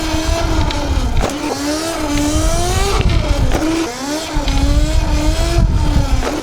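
An ETM Revolver Alpha RC car's upgraded electric motor whines close by, pitch rising and falling over and over as the throttle is worked, with a continuous loud buzz and no talk.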